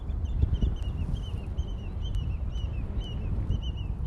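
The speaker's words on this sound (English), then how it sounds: "You can hear the lapwings in the background." Repeated high, slurred calls of lapwings, somewhat distant, over a steady low rumble of wind and water.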